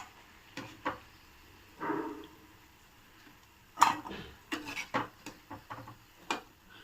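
Fried urad dal vadas being lifted out of hot oil in a pan and dropped into a bowl, giving scattered soft clinks and scrapes of a utensil against metal, several separate taps spread over the stretch with quiet gaps between.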